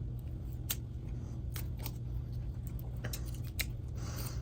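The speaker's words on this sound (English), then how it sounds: "I'm going to actually use the scissors here to cut this." Scissors snip through packing tape on an Aftershokz AS650 bone conduction headphone box, giving several sharp, close clicks and crisp cuts over a steady low hum, with no talking.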